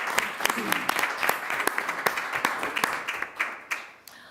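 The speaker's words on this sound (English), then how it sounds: "let's give them a round of applause as well" A round of applause at a city council meeting, steady crowd clapping for about four seconds with scattered louder individual claps, tapering off at the end.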